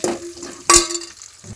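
Oil sizzling and crackling in a pan, with a sharp hiss as chopped onions and tempering seeds are dropped in partway through, then the frying settles down.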